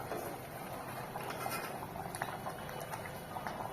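Egg sambar simmers in a pot, a soft, continuous bubbling and gentle popping heard faintly and close with no talk.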